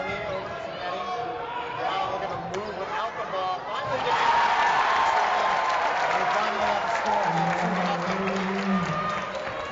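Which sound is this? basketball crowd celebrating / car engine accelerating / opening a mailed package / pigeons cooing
basketball crowd celebrating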